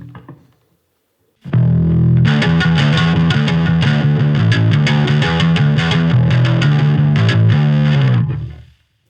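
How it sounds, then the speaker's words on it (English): A bass guitar through a vintage fuzz effect preset on a Fender amp plays a gritty, buzzing riff of steady repeated notes, loud and close, ending abruptly. "You can hear their classic fuzz tone."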